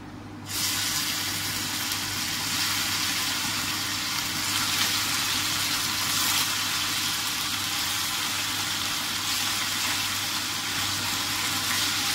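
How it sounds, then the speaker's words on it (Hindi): Small marinated boneless chicken thigh pieces shallow frying in a pan give a steady, dense sizzle that holds evenly from start to finish, close and fairly loud, with no talking. "तो अभी इसको मैं फ्राई करूँगी, इसको मैंने डीप फ्राई नहीं करा, इसको मैंने शैलो फ्राई करूँगी इसको।"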